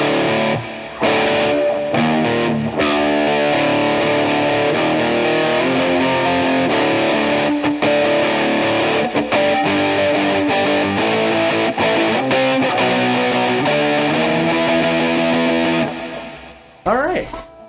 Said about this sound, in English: so we already have some substantial distortion